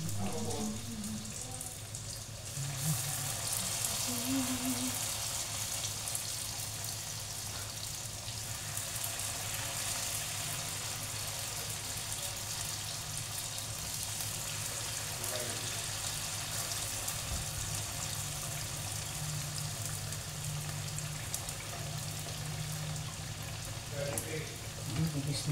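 Banana turon frying without sugar in hot oil: a steady, fairly quiet sizzle and crackle that runs throughout with little change, behind a low background hum and faint room noise.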